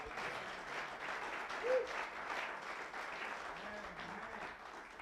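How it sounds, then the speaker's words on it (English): A congregation at a men's church conference claps its hands during an altar call, a dense, continuous patter of applause filling the hall at moderate volume, with a faint voice or tone briefly surfacing beneath. "will you clap your hands?"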